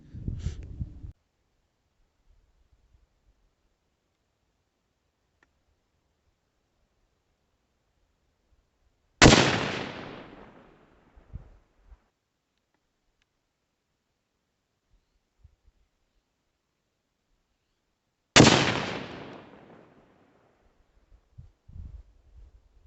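Three sharp, loud shots from a Tikka Superlite .30-06 hunting rifle fired at a 100-yard range, spaced roughly nine seconds apart, each a sudden crack with a short decaying echo amid near silence.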